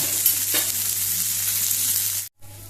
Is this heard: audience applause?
no